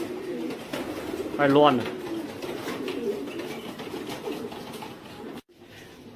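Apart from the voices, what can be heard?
young pigeons cooing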